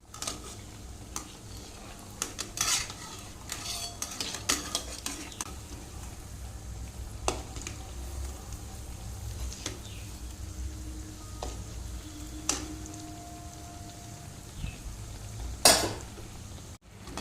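Food frying in a pan on a home stove gives a steady, low hiss throughout, with occasional clinks and scrapes of a utensil against the pan and one sharper clatter near the end; no one speaks.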